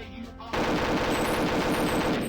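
Rapid machine-gun fire from automatons in the N64 game Perfect Dark, on the Presidential Protector mission, kicks in abruptly and rattles on as a loud, steady stream of shots.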